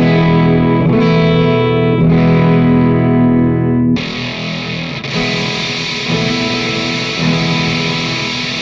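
Dry, unprocessed tone of a Les Paul electric guitar played through a 65 Soho amp: sustained crunchy chords ringing out with a strum about once a second, then a new held chord, loud and alone.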